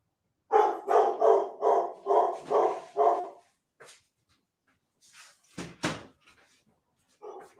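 A dog barks in a quick run of about seven evenly spaced barks, followed after a pause by a few scattered, fainter barks and knocks.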